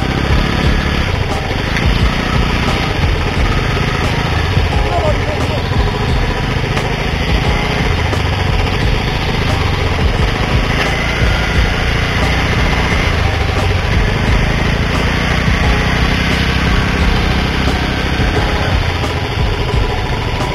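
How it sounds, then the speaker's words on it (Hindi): A motorcycle engine riding stop-start along a rough jungle track, a loud, continuous close-up drone with the revs rising and falling as the bike slows and pulls away, with no voice heard. "गाड़ी पूरा रुक रुक के जा रहा है जंगल के अंदर से।"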